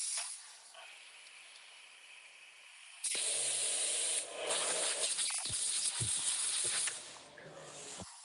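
A spray can gives off a close, steady hiss of spray, softer at first and then loud and broad from about the third second, with scraping and rubbing handling noises mixed in.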